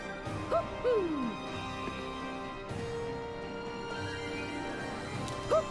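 An owl hoots in the video game Tales of Arise, a few gliding hoots rising and falling against a steady ambient music bed, with another pair of calls near the end.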